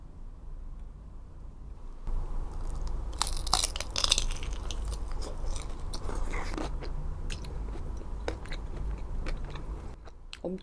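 Crisp bites and crunchy chewing on Thai Hat Yai fried chicken, close and loud, with repeated crackling bites early on settling into steadier chewing, no talk.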